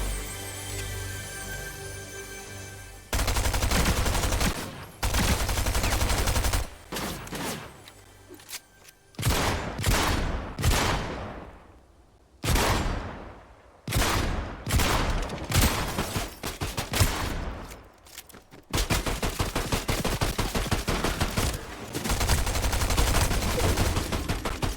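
Rapid gunfire from the video game Fortnite in a solo battle royale match: loud bursts of automatic shots and single cracks, with short pauses between volleys, and no talking.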